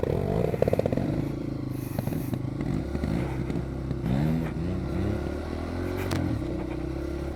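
Off-road motorcycle ridden slowly on a tight rocky trail, close engine revving and lugging with clutch-controlled bursts, clattering and scraping over rocks, steady and loud throughout with no talk.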